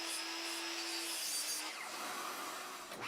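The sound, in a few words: miter saw cutting 1/2-inch plywood to length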